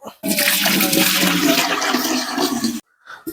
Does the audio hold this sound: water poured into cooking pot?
yes